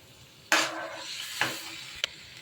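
Eggs being stirred into egg curry in a pan: a sharp sizzling scrape, then a second softer stirring stroke and a small clink, close up with no talking.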